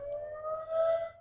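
A steady distant siren tone wails and rises slightly, sustained and fairly faint with no talking.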